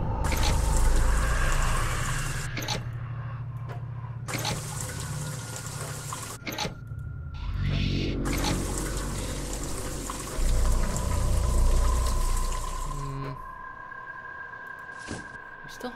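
Water pours and gurgles steadily into a tank in the video game Fran Bow, a full, rushing liquid sound with brief breaks and low, resonant undertones, heard alone without talk.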